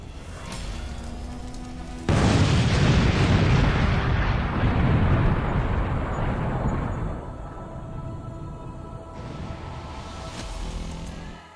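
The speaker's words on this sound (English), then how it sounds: "strike units executed a coordinated attack that triggered a massive explosion" A massive explosion of an ammunition stockpile hit by a coordinated strike bursts in suddenly, a loud deep roar that rumbles and slowly fades over several seconds, with a quieter rumble returning near the end.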